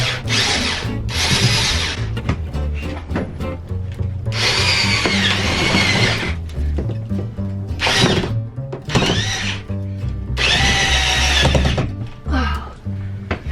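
A power drill drives screws into shiplap boards inside a van, loud whirring bursts of varying length with short pauses and thunks between them, close up.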